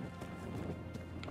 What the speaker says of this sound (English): I just found a random kind of hut here and decided to go on the horse